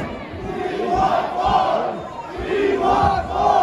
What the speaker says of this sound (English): The Penn Station crowd here giving some love to hardcore Michael Mora as he goes after massive damage.